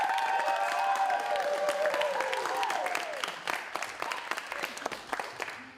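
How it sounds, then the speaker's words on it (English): Enthusiastic applause from an audience at a university drama production, dense clapping with some cheering mixed in, gradually thinning into scattered claps toward the end. "Give him a warm round of applause."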